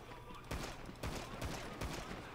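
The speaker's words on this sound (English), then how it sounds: "Wake up to gunshots." Several bursts of gunfire crack out in a video game shootout, quiet and somewhat distant, coming as a few separate volleys over about two seconds with no talking.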